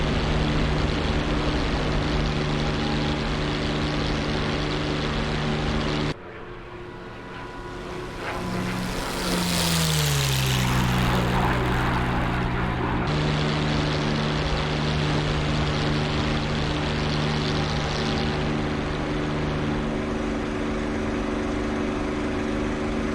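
A P-51 propeller fighter in the DCS World flight simulator, its engine droning steadily and loudly throughout with a strong low harmonic hum, briefly dipping and shifting pitch midway before settling back into a constant roar.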